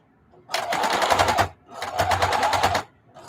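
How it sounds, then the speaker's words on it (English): A heavy-duty sewing machine stitches through 11 layers of fabric for a dogbone pillow, running in two close, rapid bursts of rhythmic needle strokes separated by a short pause. "because I'm sewing through 11 thicknesses on this heavy duty machine"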